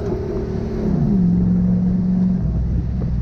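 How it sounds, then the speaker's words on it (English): A Toyota Hilux automatic engine revs near 4,000 RPM, a loud steady drone whose pitch drops noticeably as a gear change kicks in, then holds before easing off. "There's definitely a gear change in there."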